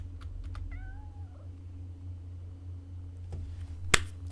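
A cat in the PowerWash Simulator 2 video game gives a single drawn-out meow, followed by a few faint clicks and a sharp snap-like knock over a steady low hum.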